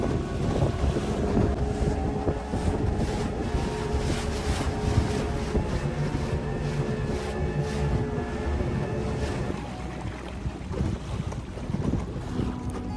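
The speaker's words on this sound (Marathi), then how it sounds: "मग परत बोट स्टार्ट केली आपण" A motorboat running at sea off Vengurla, Sindhudurg, on a dolphin-watching trip. Its engine gives a steady, continuous drone, with gusty wind buffeting the microphone throughout and no voices.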